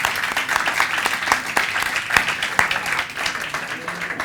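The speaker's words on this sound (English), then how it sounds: "I would like you all to give them a big applause." An audience applauds a group of volunteers at a rhythm-themed music research event, with steady, dense clapping from many people throughout and faint crowd noise mixed in.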